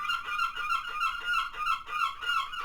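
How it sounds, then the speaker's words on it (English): Seagulls calling over and over, loud harsh squawks repeating in a steady rhythm with no voices. "Hopefully you can't hear seagulls in the background."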